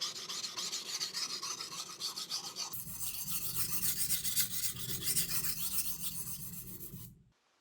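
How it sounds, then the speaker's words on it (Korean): Single-bevel Japanese sashimi knife having its edge reshaped on a 400-grit Toséra whetstone, a steady rhythmic wet scraping with repeated strokes, close and continuous, stopping abruptly at the end. "날 끝 부분은 이 400번 토세라 400번 숫돌에서 날 끝을 다시 정리를 해줄게요."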